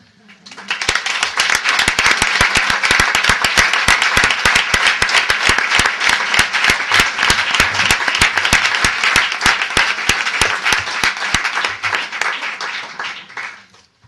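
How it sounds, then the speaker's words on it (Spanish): An audience at a poetry tribute for Tomás Segovia breaks into sustained, loud applause. Many hands clap briskly for over ten seconds, swelling quickly and fading at the end. "podremos darle el aplauso que ha pedido el ensayista José Luis Parra"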